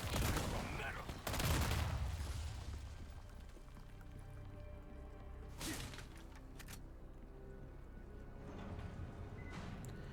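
Tommy gun fire in the Resident Evil 4 Remake game, a few sharp bursts spaced out across the stretch over low background ambience, with a voice talking in between.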